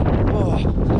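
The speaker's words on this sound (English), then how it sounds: "Gale force winds today, advertised 50 mile an hour." Gale force wind gusting to about 50 mph on the Pyg Track up Snowdon, a loud continuous roar buffeting the microphone for a brief moment.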